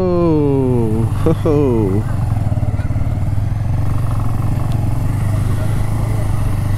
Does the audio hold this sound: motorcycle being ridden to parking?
yes